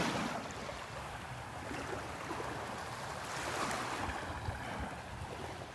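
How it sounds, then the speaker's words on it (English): Ocean waves washing onto Vanderbilt Beach on a morning walk, a continuous wash of surf roaring and hissing at moderate distance with gentle swells in loudness, mixed with wind and no talk. "I'm just going to walk along here and let you listen to the waves for a few minutes."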